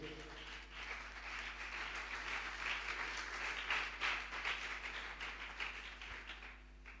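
Church congregation at a French-language service applauding and cheering the Lord, a steady wash of clapping and crowd voices sustained for several seconds at moderate distance.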